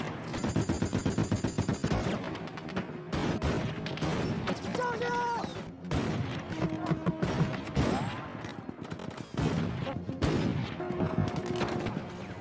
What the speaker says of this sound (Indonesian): Sampai para pemberontak lain menembaki mereka dengan membabi buta